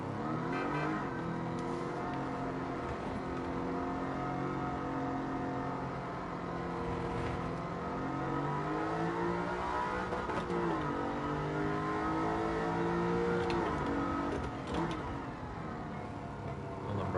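A video game car engine revs and drones continuously, pitch climbing and dipping as it accelerates and shifts, with no talking.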